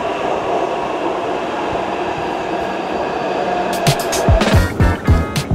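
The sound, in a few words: Taipei MRT subway train at station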